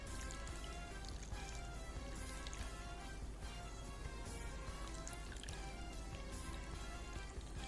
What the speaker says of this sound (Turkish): Et suyumuzu buz kalıplarına dökeceğiz.